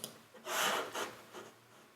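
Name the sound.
hand rubbing sound used in a song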